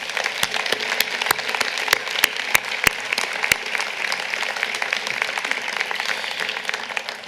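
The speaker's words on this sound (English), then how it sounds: "Please applaud them one more time." Sustained applause from a large crowd at a college commencement ceremony, steady and dense, with a few sharper individual claps standing out near the start.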